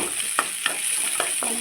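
Onion and garlic frying in oil until golden brown, a steady bright sizzle with a few soft stirring knocks from a utensil, close by and with no talking.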